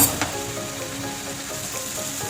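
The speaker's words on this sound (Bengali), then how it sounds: "মশলাটা একটু কষে নেব।" Spice paste frying in oil in a pan for chicken curry, a close, steady hiss and crackle with a faint scrape near the start and no talking.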